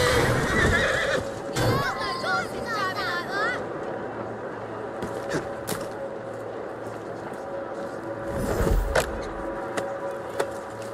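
A horse in Assassin's Creed Syndicate whinnies loudly near the start, followed by steady clip-clop of hooves on a street with background ambience and occasional speech.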